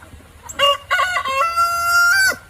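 A Golden Wyandotte rooster crows once, close and loud, with a stuttering start that draws out into a long, strained, rising-then-falling call over faint rain and background noise.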